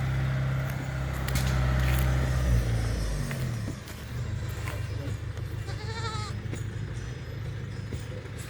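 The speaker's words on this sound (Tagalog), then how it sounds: "Ang cute ng kambing na ito." A goat on a small farm bleats a few times at a moderate distance while an engine rumbles loudly at first and then fades.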